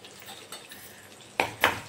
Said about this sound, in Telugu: ఇప్పుడు దీన్ని తాలింపు వేసుకుందాం